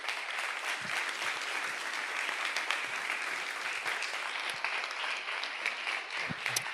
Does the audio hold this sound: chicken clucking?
no